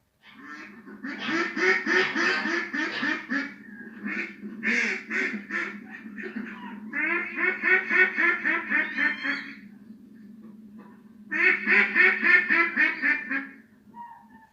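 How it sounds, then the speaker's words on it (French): A duck quacks loudly in quick, rapid runs, with several bursts of chattering quacks separated by brief pauses. "le canard qui cancane."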